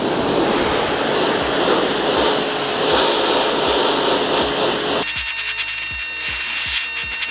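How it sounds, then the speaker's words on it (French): Cecotec Hidroboost 3200 pressure washer fitted with its wide white nozzle, spraying a wooden plank: a loud, steady hissing blast of water on wood for about five seconds, then a sputtering, interrupted spray with short bursts. "J'ai équipé du coup l'embout blanc pour pouvoir nettoyer la deuxième planche."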